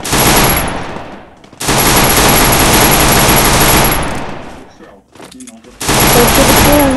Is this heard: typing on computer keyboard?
no